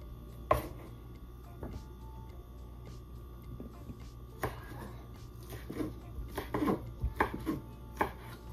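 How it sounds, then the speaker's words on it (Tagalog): A knife slices through beef liver on a cutting board in a series of faint, irregular thuds and taps that pick up in pace toward the end, with no talking. "slicing na rin natin ang ating beef liver"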